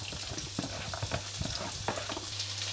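Chopped onion and garlic frying in hot oil in a pan, a steady close sizzle with intermittent stirring scrapes and clicks throughout, no voices.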